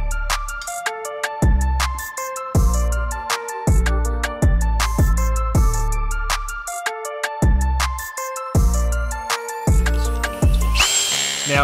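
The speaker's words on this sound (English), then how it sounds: "I go through and just nip up all the bolts with the drill" A power drill whirs in repeated short bursts tightening beadlock wheel bolts, each run ending in a strained stop, loud and close, with brief pauses between.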